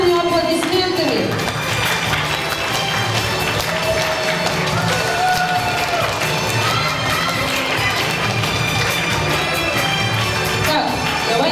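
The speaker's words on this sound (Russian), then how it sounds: "Поддерживаем наших выпускников бурными аплодисментами." Energetic applause and cheering from an audience at a primary school fourth-grade graduation ceremony, steady and loud throughout with children's voices and music playing underneath.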